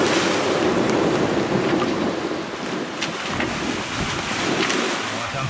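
Rough open sea seen from a sailboat beating into 21 to 22 knots of wind, a loud constant wash of waves and wind noise with no break, heard alone throughout.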